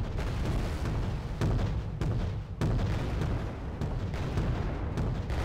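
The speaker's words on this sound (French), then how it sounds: "Bombardement naval" Naval bombardment in Wargame Red Dragon: a steady, dense roar of heavy shell blasts with repeated booming impacts, fairly faint overall and continuous throughout, without speech.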